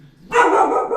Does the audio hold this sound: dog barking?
yes